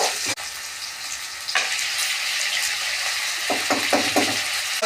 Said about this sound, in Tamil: இப்போ நல்லா இதை நம்ம வதக்குவோம்.